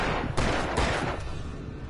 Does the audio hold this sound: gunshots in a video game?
yes